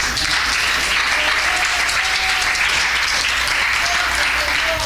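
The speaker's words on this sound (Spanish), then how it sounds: "Denle un aplauso fuerte al Señor." A church congregation applauds loudly and steadily, a dense wash of clapping that fills the space without pause and with no speech above it.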